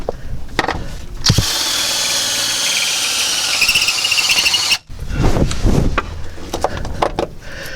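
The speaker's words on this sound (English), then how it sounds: "So we're just using this step-up bit to ream it, basically." A power drill fitted with a step-up bit reams a hole in a van's metal body, giving a loud grinding whine with a squeal that runs for a few seconds and then breaks into short, choppy bursts close by.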